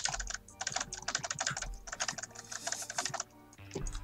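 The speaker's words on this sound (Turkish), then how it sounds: "Ve klavye spamlayan bir Salih'imiz var." Computer keyboard being spammed during a game of The Binding of Isaac Rebirth: rapid, clattering bursts of keystrokes in dense clusters with short gaps, close and fairly loud, no voices.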